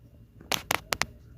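A pen scratching on paper as lines and math are written, four quick strokes close by, brief, sharp and dry, with nothing else behind them.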